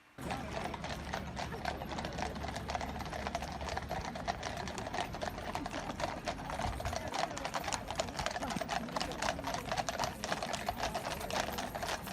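Horses' hooves clip-clop in a quick, steady rhythm as guards march, a dense continuous clatter with a voice talking over it.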